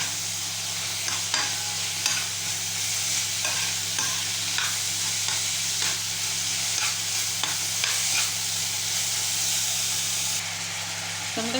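Kefta meat seasoned with salt, cumin, pepper and ginger is stirred in a hot pan for a quick hachis parmentier. A continuous close sizzle and hiss runs throughout, with repeated scraping and clinking of the spoon against the pan.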